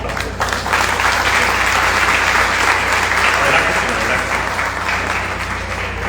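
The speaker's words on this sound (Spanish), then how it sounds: "Así que un aplauso para don Enrique." An audience at a book presentation applauds for don Enrique, a loud, sustained wash of clapping from many hands that holds steady and tapers slightly at the end.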